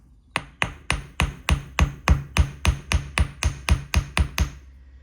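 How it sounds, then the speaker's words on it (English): A block struck repeatedly with a hammer to give it texture, about fourteen sharp, even taps in a steady rhythm, close and clear with no talk. "You just want to hammer."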